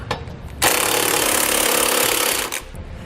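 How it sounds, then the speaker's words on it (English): A power tool drives a 3/4-inch socket to snug the 1/2-inch bolts of a Curt trailer hitch receiver on a 2018 Subaru Impreza, giving a loud, close buzzing whir of about two seconds between quieter handling noises. "We're going to come back with a 3/4-inch socket and snug up our 1/2-inch hardware."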